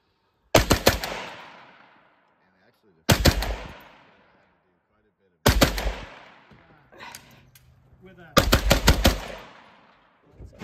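Machine guns fire at an Alaska Machine Gun Association shoot in Anderson, four loud close bursts of rapid automatic fire, each cut short and followed by a ringing decay with brief pauses between.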